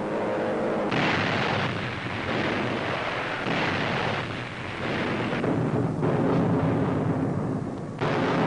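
Wartime aerial bombing in a WWII newsreel, with Allied bombers striking Nazi targets, heard as a dense, continuous roar of heavy blasts and rumbling detonations that swell and fade in waves across the whole stretch, with no voices.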